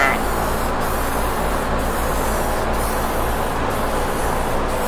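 Spray gun laying a candy-colour clear coat onto a guitar body gives a steady, loud, continuous hiss of atomised paint, unbroken across the whole stretch with faint periodic shifts.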